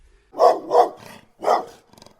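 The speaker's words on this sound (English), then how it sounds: "The hound growls and barks at Stanley" A chained junkyard hound in a front yard gives three loud, close barks, the first two in quick succession, followed by a lower rough growl, with no talking.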